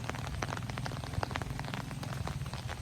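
Rain falls steadily outdoors, a dense patter of small close impacts with a low background hum.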